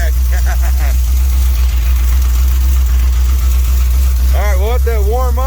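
A Dodge street van's 360 V8 idles steadily while warming up in the cold, a loud continuous low rumble throughout, with a voice briefly heard near the start and again near the end.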